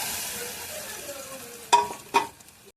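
Dal hits a hot turmeric and red chili powder tempering, giving a soft hissing sizzle, then two sharp clattering stirs of the spoon against the pan before the sound drops away.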